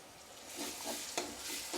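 Ginger and garlic paste sautés in a pan for a mixed vegetable curry, with a soft, steady sizzle. A few brief stirring scrapes break through it, and no one speaks.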